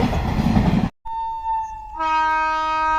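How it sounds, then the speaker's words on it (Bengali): A train passes close to a railway station in India: a loud rolling rumble stops abruptly, then a sustained horn sounds and swells into a fuller, multi-tone blast. No voices are heard. "ট্রেন যাচ্ছে।"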